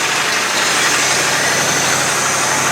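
A 1989 Ford F250 service truck engine idling rough on only four cylinders after years sitting abandoned, a loud, steady, close-up rumbling drone with no talk.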